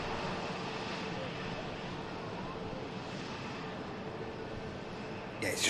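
A Qatar Airways airliner departing Manchester Airport, a broad, steady engine roar at distance, loud and continuous with wind-like rumble, with no clear talk over it.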